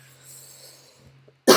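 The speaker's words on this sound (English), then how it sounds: "Sorry guys for my coughing." A single loud, sharp cough bursts out at the very end, close to the microphone, after a stretch of quiet background hum.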